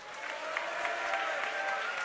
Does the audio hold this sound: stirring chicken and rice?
no